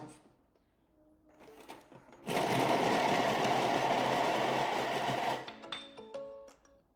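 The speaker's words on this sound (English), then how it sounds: "now it's going to chop that for 2 seconds on speed 5" A kitchen machine chops soup ingredients on speed 5 for about two seconds, a loud dense whirring burst that begins and stops abruptly, framed by quieter clicks and handling sounds.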